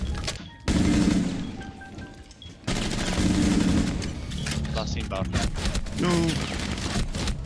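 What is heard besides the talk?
P90 submachine gun fire in Rainbow Six Siege video game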